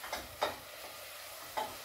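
Onions sizzle faintly in a pan while a utensil scrapes and stirs them in a few soft, separate strokes, quiet and close with no talking.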